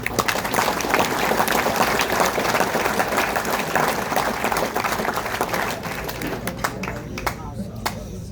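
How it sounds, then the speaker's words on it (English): Sustained applause from a crowd at a wrestling hall of fame banquet, dense clapping that holds steady and then thins out toward the end, with a few scattered claps lingering. "If you would please give them a round of applause."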